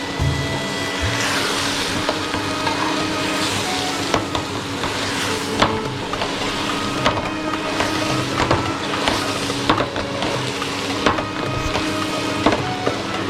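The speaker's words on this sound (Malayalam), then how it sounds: "അരി ഒന്ന് സ്ലോ ആയിട്ടൊന്ന് മിക്സ് ചെയ്ത് കൊടുക്കാം." Rice, fried beforehand, stirred slowly in a frying pan for prawn kabsa, giving a steady close sizzle with scraping and clinking of the spoon against the pan throughout.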